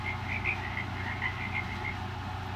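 A frog croaking sound effect played by a Google Assistant smart speaker: a steady, moderately loud run of low rapid croaks with brief higher chirps repeating throughout, and no talking.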